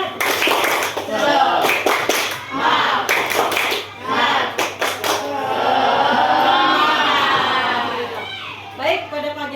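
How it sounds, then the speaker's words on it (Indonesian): A classroom of students claps in a rhythmic spirit routine, sharp bursts of hand claps in quick patterned groups, loud and close, with a teacher and children's voices talking over and between the claps. "Tepuk semangat dulu ya."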